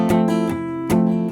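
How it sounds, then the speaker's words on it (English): Acoustic guitar strummed with the strings palm-muted near the bridge, a few soft, damped chord strokes with short percussive attacks and a subdued sustain in an easy rhythm. "I'm taking the side of my hand and dampening the strings near the bridge"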